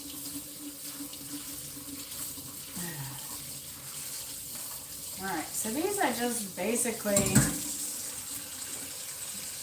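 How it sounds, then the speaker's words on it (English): A kitchen or utility sink tap runs steadily at moderate level, with a person speaking over the flowing water partway through. "I'm going to turn the water down a little bit."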